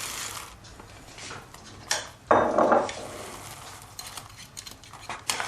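A spoon stirs a cake mixture with diced apricots and broken baby biscuits in a bowl, giving soft scraping and clinking strokes with a couple of sharper knocks against the bowl, close and fairly quiet.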